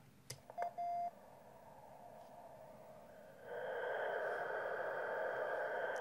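A YouKits HB-1B QRP CW transceiver gives off a few short beeps, then a steady continuous CW tone that grows louder and holds to the end, with no talking.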